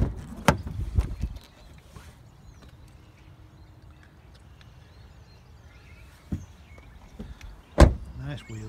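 Electric windows on a Volkswagen Tiguan 2.0 TDI SE 4Motion run with a low steady motor whir, bracketed by a few sharp clunks and thumps near the start and end.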